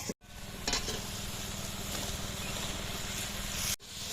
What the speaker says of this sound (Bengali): তরুকলাগুলো দেওয়ার পর আবার ভালো করে কষে নেব।